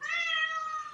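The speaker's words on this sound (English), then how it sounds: "I think the cat's telling us to wrap it up" A cat gives a single clear meow lasting about a second, close and moderately loud against a quiet background.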